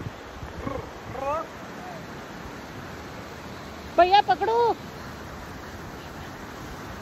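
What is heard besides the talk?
waterfall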